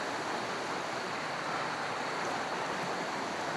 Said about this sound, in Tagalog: Sarap pakinggan ng agos ng ilog par.